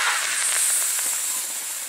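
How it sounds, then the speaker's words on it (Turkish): A budget steam mop cleaner blasts high-temperature steam onto a dirty surface, a steady close hiss that runs without a break for the whole moment, with faint clicks and scrapes underneath. "Gördüğünüz gibi yüksek sıcaklıktaki buhar basıncı bez girmeyen yerleri de"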